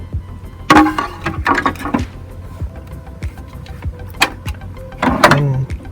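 Casing of a Synology DS220j NAS slid open by hand, a series of close plastic scrapes, clicks and rattles in short bursts, fairly loud with no talking.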